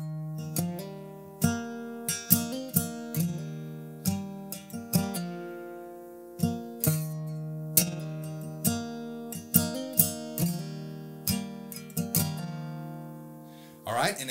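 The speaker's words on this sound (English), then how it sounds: "this is me just sort of adding a bit of extra picks on the strings" Acoustic guitar playing a part with extra single strings picked between strummed chords in no set pattern, each attack crisp and close, ringing alone without talk.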